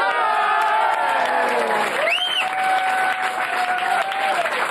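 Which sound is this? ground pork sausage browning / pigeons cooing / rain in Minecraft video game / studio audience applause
studio audience applause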